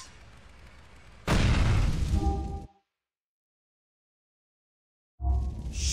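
Explosion in the video game GTA The Lost and Damned: a sudden loud, close boom with a dense roaring rumble lasting over a second, then dead silence before loud game noise resumes.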